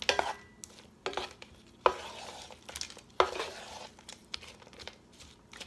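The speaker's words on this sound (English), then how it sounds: "I'm going to go ahead and add the bacon." Bacon goes into a pot of Brussels sprouts simmering in stock, bringing a quiet series of soft knocks, stirring scrapes and crinkles over a faint sizzle.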